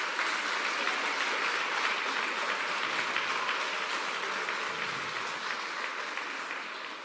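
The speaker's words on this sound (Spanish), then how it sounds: "Dale un fuerte aplauso por la palabra" Church congregation giving loud, sustained applause after a sermon, a dense wash of clapping that holds steady and slowly fades toward the end.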